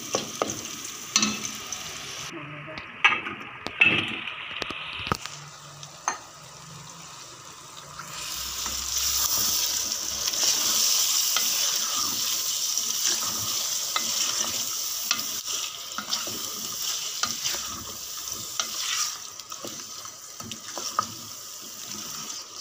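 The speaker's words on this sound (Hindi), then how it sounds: "देखिए अब ये हमारा प्याज ब्राउन हो चुका है ठीक है ये देखें अब मैं इसमें चिकन डालने जा रही हूँ" Chicken going into a pan of browned onions for a chicken shorba, with steady sizzling and frying, scraping stirs and a brief running-water stretch near the start, all close and moderately loud.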